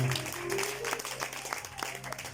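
A church congregation applauds for Jesus, a steady wash of many hands clapping mid-distance throughout, with a sustained low tone and faint voices underneath.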